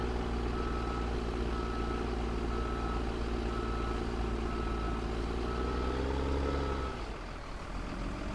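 A truck reverses with a trailer in Farming Simulator 17, its engine droning loud and steady before the tone drops and settles near the end, with no talking.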